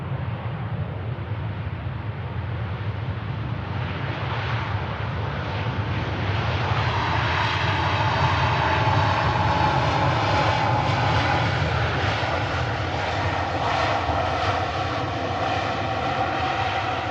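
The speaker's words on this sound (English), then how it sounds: "the Virgin Airbus A350, instead of crossing at the runway, is making a left-hand turn" A Virgin Airbus A350 at Manchester Airport roars with a loud, sustained engine drone that swells and brightens as the jet turns and moves closer, with no talk over it.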